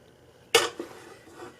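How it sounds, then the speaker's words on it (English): Cooked macaroni tipped into a pot for a frugal Depression-era dish lands with one sharp clatter, followed by a softer clink and faint scraping, close and quiet with no talking. "now we're going to add the macaronis that are cooked"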